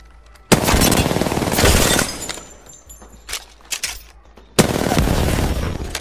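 Rapid automatic gunfire in Apex Legends comes in loud sustained bursts, with a long burst at the start, a few short shots in the middle and another burst at the end, with no talking.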